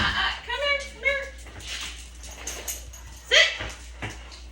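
Pet dogs give high, whining whimpers and a short yelp at close range, mixed with a person speaking to them.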